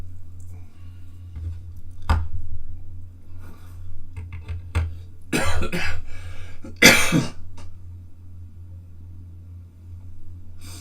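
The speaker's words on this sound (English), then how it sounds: "You have to forgive my coughing." A person painting a Sisters of Battle Exorcist model coughs and clears their throat a few times at close range, with scattered small clicks and handling noises between the bursts in an otherwise quiet room.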